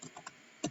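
A few quick keystrokes on a computer keyboard followed by a heavier, louder press of the Enter key, close and faint with no talking.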